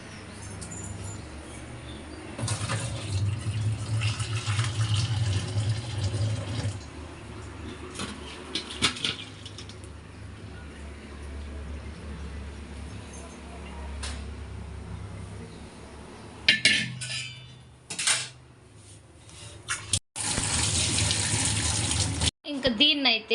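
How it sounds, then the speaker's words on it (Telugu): Water from a pot of boiled white sweet potatoes pours and splashes through a strainer in a home kitchen, with running, gurgling flow that rises and pauses in bursts, close and fairly loud. "నెక్స్ట్ దీన్ని మనం స్ట్రెయిన్ చేసేసుకుందాం."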